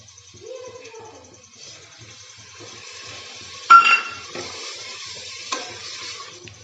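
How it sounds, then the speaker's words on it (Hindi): A sudden hiss and bubbling surge as water hits hot masala of turmeric and spices in a pressure cooker, settling into a steady sizzle with a few clinks of stirring. "अब डालेंगे हम थोड़ा सा पानी।"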